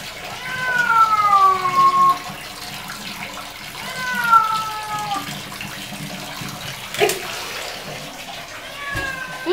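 A cat being bathed lets out several drawn-out, wavering meows in separate bursts, with running water from a tub or tap splashing quietly underneath and occasional handling bumps.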